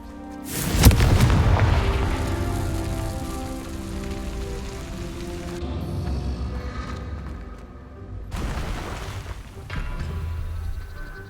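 The Confringo explosive spell in Hogwarts Legacy goes off as a loud, close boom at the start, followed by a long rumbling, crackling tail. A second fainter burst comes near the end.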